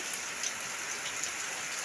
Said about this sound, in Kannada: ಈಗ ಒಂದು ಆಯಿತು ಮಳೆ ಚಾಲು ಆಗಿದೆ ನೋಡಿ